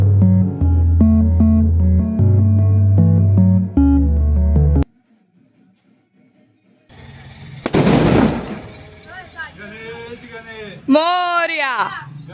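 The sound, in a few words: firecrackers exploding during Ganpati festival celebration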